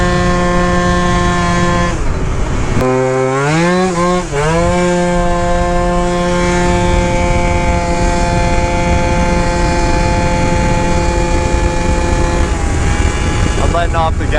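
A Yamaha Jog scooter with a top-speed mod runs flat out, its engine a loud, steady high-pitched drone that dips and recovers as the throttle eases, with someone talking over it.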